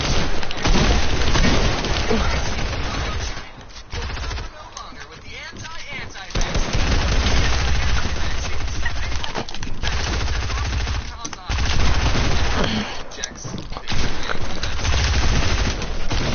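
Rapid automatic gunfire from a video game rattles almost continuously in loud bursts with short pauses, a voice talking over the shooting.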